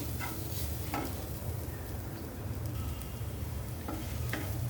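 Peas and spice mix sauté in oil for a kachori filling, a constant soft sizzle close by with a few faint spatula scrapes and no speech.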